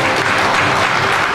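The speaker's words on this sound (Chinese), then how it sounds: "再来一个掌声来祝福" Dense, steady applause from an audience at a Junior Chamber (JC) ceremony for a council chair handover, loud and close, filling the whole moment without pause.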